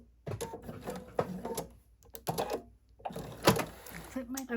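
A sewing machine makes a fixed stitch on fabric for an up-cycled jeans pet portrait pillow, giving close, intermittent mechanical bursts with short pauses, alongside a voice.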